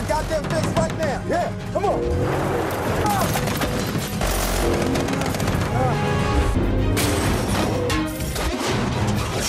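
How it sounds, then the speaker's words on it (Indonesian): A bazooka is fired at a tank from a rooftop during a battle scene in a war film, with loud, dense blasts and crackling gunfire running continuously throughout, and voices mixed in. "pasukan Stans yang berjaga di atap akhirnya menembak tank itu menggunakan"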